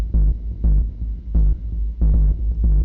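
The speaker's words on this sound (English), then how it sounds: "so you get this booming sub bass" Deep, booming sub bass hits pulse in a slow, uneven rhythm in a dub techno drum pattern, heavy and distorted by drive, with nothing else in the mix.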